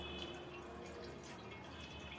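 Water poured from the side into a container, a steady close trickling and dripping that runs continuously without pause, with no talking.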